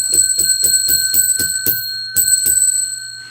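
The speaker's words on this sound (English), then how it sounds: "10 rings of the bell." A hand bell rung about ten times in quick succession, bright ringing strikes with a short pause before the final few, close and loud, each tone hanging briefly before fading out.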